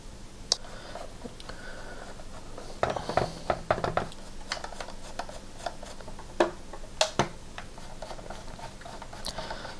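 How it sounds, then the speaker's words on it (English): Screws being driven back into a Nintendo 64 plastic case, with small clicks, ticks and light scraping of a screwdriver in irregular bursts, close and quiet without speech. "Screw it back together."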